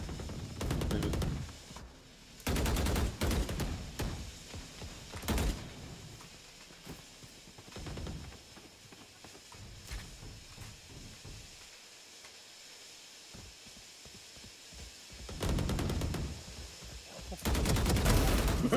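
Gunfire in the tactical shooter Valorant comes in loud, rapid bursts of sharp cracks at the start, then trails off into quieter scattered shots. It returns in heavy bursts near the end.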